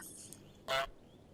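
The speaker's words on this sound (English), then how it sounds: "What is this goose doing? Why is it honking at me?" A goose honks once in Untitled Goose Game, a video game: a single short, loud, nasal honk that stands out over quiet background game sound.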